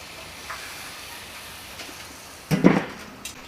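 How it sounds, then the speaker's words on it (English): Hotdog burgers with chorizo charring on a grill grate make a soft, steady hiss that swells into a louder, crackling flare of sizzle for about a second near the end. "We're going to get a nice little char on them. Right here on my grill grate."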